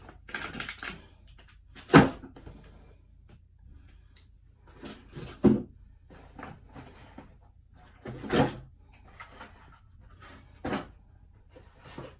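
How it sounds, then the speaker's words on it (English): Items being put into a freshly cleaned-out bathroom drawer: several separate knocks and rattles of objects landing and the drawer moving, spaced out over a quiet room with no talk. "So, yeah, I'll put these in the drawer."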